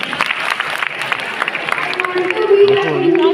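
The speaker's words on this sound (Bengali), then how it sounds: "হাততালি সবাই মিলে" A group claps hands together in a dense, even patter of applause, with a voice rising over it toward the end.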